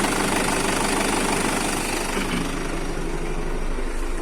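A New Holland TD 90 tractor engine idles close by with a loud, steady, knocking diesel rumble.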